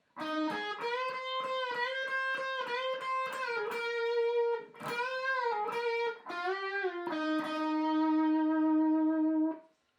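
A distorted electric guitar plays a lead phrase alone from a song's solo: quick repeated picked notes, sliding bends, then a long sustained note ringing out.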